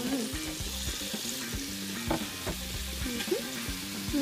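Chicken thighs frying in a pan for chicken estopado, a continuous loud sizzle with stirring scrapes and bubbling, close and steady throughout.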